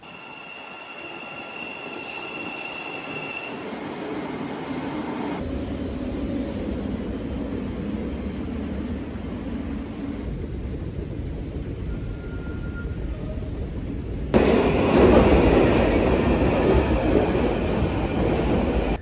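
A train running on rails between Gatwick Airport and Three Bridges in the United Kingdom, with a steady rumble and rolling noise throughout and a brief wheel squeal, growing louder toward the end.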